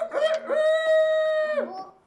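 A rooster crows once, a loud, close, sustained cock-a-doodle-doo with a rising start and a falling end, heard alone with no talk over it.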